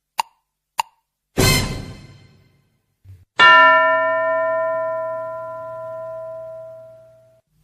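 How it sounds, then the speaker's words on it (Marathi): A school bell signalling the second ring during an English lesson: two faint ticks and a sharp clang come first, then one loud bright strike that rings on and slowly fades over about four seconds. "दुसरी घंटा वाजायच्या आत बरं का."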